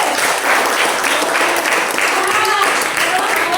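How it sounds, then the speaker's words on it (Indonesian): A classroom of students applauds a classmate after a math lesson, with steady, dense, close clapping throughout and voices mixed faintly into it. "silakan tepuk tangannya untuk Mari."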